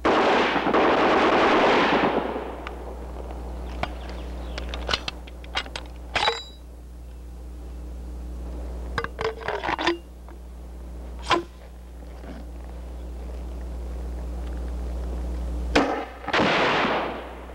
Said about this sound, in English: The HK-69 grenade launcher is for firing 40mm explosive grenades.